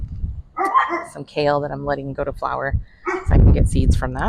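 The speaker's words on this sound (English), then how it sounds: "Excuse my dog barking." A dog barks in a backyard garden with kale going to flower, sharp barks cutting in near and loud around someone talking throughout.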